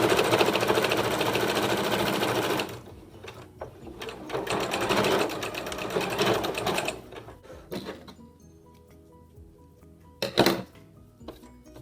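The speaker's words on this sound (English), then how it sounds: "So now we have it sewn all the way down one side." A sewing machine hums rapidly as it stitches along a dog leash, running loud and steady for a few seconds, then slowing into shorter uneven bursts with pauses between them.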